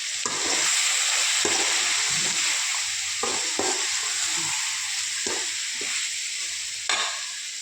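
Brinjal curry (eggplant) sautéing in oil with turmeric added, a spoon stirring the pan in repeated scrapes over a steady close sizzle and frying hiss, no voices.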